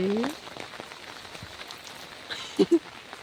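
Rain falls on surfaces with a faint, continuous patter. A brief voice is heard near the start and two soft knocks come near the end.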